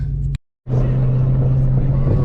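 A car drives through city streets, heard from inside as a steady loud engine drone and low road rumble, briefly cutting to silence before resuming evenly.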